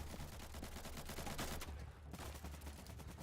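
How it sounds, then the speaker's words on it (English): Gunfire in a multiplayer shooter video game, rapid overlapping bursts of automatic fire crackling continuously at a moderate, slightly distant level, with a brief lull before it resumes. "Oh, there's so much gunfire."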